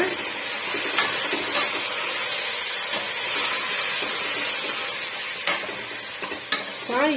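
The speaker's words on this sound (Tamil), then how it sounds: "ஒரு டூ மினிட்ஸ் நம்ம வதக்கி விட்டுக்கிட்டோம்" Chopped chayote being sautéed in hot oil in a pan for a kootu, giving a steady close sizzle with scraping stir strokes and occasional spoon clinks throughout.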